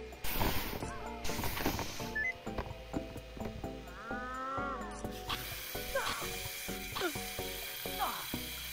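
A game elevator is called and moves: loud ratcheting and grinding machinery clanks in repeated mechanical clicks, with rising whirring tones and clattering gears running throughout.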